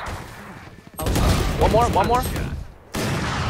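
Valorant gunfire cracks in a loud, rapid burst, with more shots following after a short gap, while a player talks excitedly over it.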